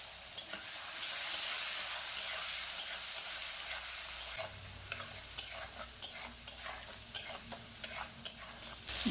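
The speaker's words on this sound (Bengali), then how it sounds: "চিংড়ি মাছ দিয়ে মাছ ভেজে তুলে নেব" Prawns seasoned with turmeric and salt fry in hot oil, giving a steady, hissing sizzle that later turns into crackling pops and scraping stirs, close by and moderately quiet.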